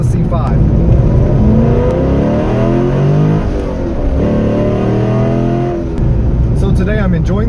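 A Chevrolet Corvette C5 sports car drives on back roads, its engine a steady loud drone that rises and falls in pitch as it accelerates and shifts, close and continuous throughout.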